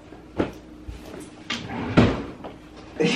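Wooden drawer or cupboard being pulled open and knocked around in an apartment, several short sharp thuds and slides spaced irregularly, close by with no talking.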